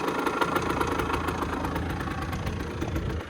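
A carbureted motorbike engine idles with a rich mixture, a steady close-up mechanical putter with rapid rhythmic pulses and slight knocking throughout, running alone with no talk.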